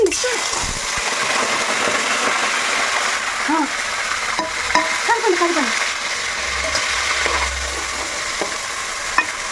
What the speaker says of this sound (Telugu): ఉల్లిపాయ పచ్చిమిర్చి వేసేయండి అందులో